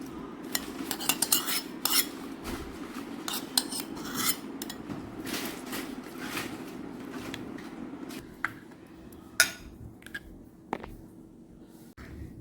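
A spoon mixes tempering into curd rice in a bowl, producing repeated soft scrapes, squishes and metallic clinks against the dish, close and fairly quiet, with a couple of sharper knocks.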